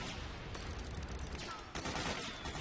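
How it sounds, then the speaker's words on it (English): Mortar fire and battlefield gunfire in Metal Gear Solid 4: Guns of the Patriots, a dense, continuous barrage with sharp bursts near the start and after the midpoint, loud and sustained throughout. "And here we get to use the mortar"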